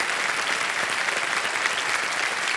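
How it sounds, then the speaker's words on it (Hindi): Loud, dense applause from a studio audience on the KBC quiz show set, a steady continuous wash of many hands clapping together with no voices over it. "एक बार जोरदार तालियां बज जाएं इनके लिए"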